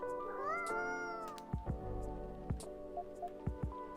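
A cat in the video game Coffee Talk gives a drawn-out rising meow, followed by a few soft close clicks and small taps.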